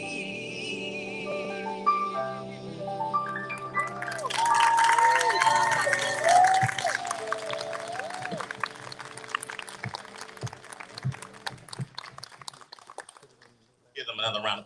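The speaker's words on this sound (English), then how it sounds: "Give them another round of applause" Applause and cheering from a school spring concert audience swell after a musical passage fades, a mix of clapping and crowd noise with talking over it, then a brief pause before more sound.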